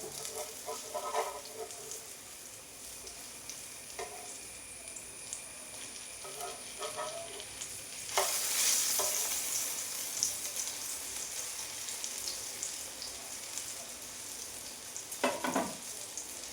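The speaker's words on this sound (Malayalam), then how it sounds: "അപ്പോൾ ഒന്ന് മറിച്ചിട്ട് കൊടുക്കാം മുട്ടയായതുകൊണ്ട് ശരിക്ക് ഓളച്ച് വരുന്നുണ്ട്" Egg-coated brinjal slices frying in a pan give a steady, close hiss and crackle throughout, with a louder scraping clatter midway as the slices are flipped and another brief clatter near the end.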